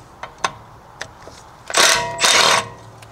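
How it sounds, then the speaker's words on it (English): An Allen key works a 6mm screw loose from the brake rotor of a 2008 BMW E60 550i: a few sharp metallic clicks, then two longer grinding, ratcheting bursts, close and fairly loud. "I'm going to remove the 6mm Allen screw that holds the rotor in place"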